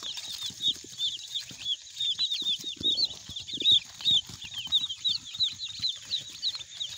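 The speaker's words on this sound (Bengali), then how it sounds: "এই ছোটো মুরগি নিয়ে এসেছি" Day-old native chicks peeping continuously in rapid high chirps, close by, with soft scuffling and thumps underneath.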